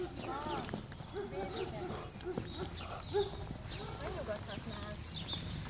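Horses trot past on a farm, their hoof clip-clop running under steady talk and other voices, with a brief louder knock near the middle.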